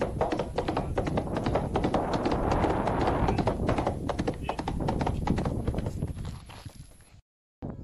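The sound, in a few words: horses clip-clopping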